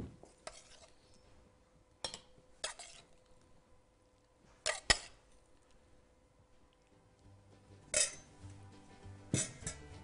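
Sweet potato gnocchetti with prawns, ginger, rocket and chili being plated, with scattered sharp clinks of utensils against dishes at irregular intervals, fairly close and without talk.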